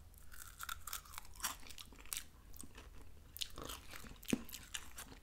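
Voortman sugar free lemon wafers, slightly stale, crunched and chewed up close in quiet bursts of crisp bites.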